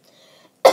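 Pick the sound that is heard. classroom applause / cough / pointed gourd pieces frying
cough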